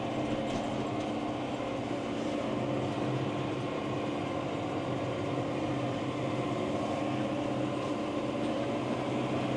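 A tractor pulling a round baler baling straw rumbles and rattles steadily in a continuous loud mechanical drone, with no talk over it.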